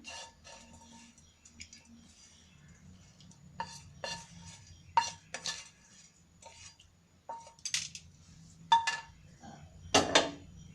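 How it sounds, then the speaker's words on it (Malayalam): Fried tempering is spooned onto curd rice on a serving plate, the spoon tapping the dish in sparse, close metallic clinks and scrapes with quiet gaps between them and no voices. "നമുക്കിതിലേക്ക് ഈ വറവിട്ടെടുക്കാം."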